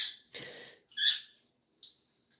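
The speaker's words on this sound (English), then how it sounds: "Yeah, the birds are talking." Pet birds give a few short, high, breathy calls, three or four separate bursts with gaps of silence between, close and fairly quiet, with no voices.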